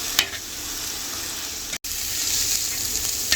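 Goat liver pieces sizzle and fry on a hot tawa griddle, a steady close hiss with a few faint scrapes of a spoon being stirred, briefly cut off by a short silent gap.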